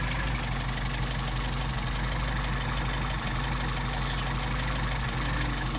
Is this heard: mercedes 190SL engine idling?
yes